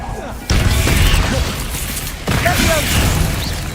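A Bombarda spell explosion in the Hogwarts Legacy video game goes off as a sharp burst with a rumbling blast, followed by a second similar burst in the middle of game combat sounds.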